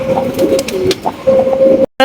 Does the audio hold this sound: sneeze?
no